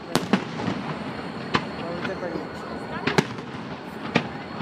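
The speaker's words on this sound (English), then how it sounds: "ooh, ooh, fireworks. Canada Day." Canada Day fireworks bursting outdoors, a series of sharp cracks and booms spaced a second or so apart, some near and loud, over a steady background of crowd noise and excited voices.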